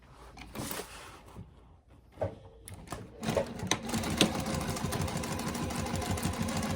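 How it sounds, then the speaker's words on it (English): A sewing machine stitches along the top and bottom edges of a fabric notebook cover with a narrow seam allowance, its motor starting after a quiet, shuffling lead-in and then running steadily and closely for several seconds. "we're gonna move to the machine and stitch just along the top and bottom using a 1/8 seam allowance"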